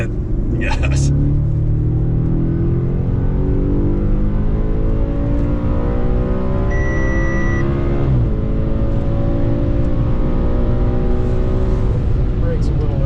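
An Audi engine pulls hard under throttle on a track day at Quattrofest, its rising drone loud and steady from inside the car throughout, while people talk over it.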